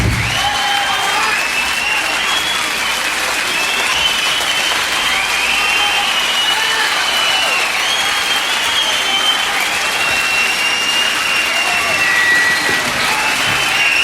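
Large concert audience gives sustained, dense applause with crowd noise at the end of the band's first set, steady and loud throughout with no speech over it.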